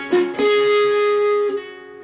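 An electric guitar plays a short phrase: a quick picked note, then one clean note held for about a second before it fades, close and solo.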